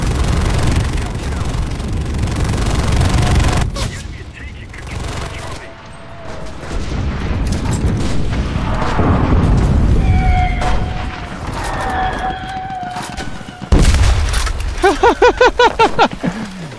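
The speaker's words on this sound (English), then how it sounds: "God damn it, I hate that artillery" Heavy artillery explosions and gunfire in the World War II shooter Enlisted rumble in repeated loud booms and bursts, followed by rapid close automatic fire near the end, with a player talking over parts of it.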